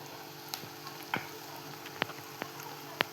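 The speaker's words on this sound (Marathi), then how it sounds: "तोपर्यंत इथे आपण कांदा परतवून घेतो." Chopped onion sautés in a pan for a spinach dish, giving a steady low sizzle broken by a few sharp clinks and taps of a spoon, with no talking.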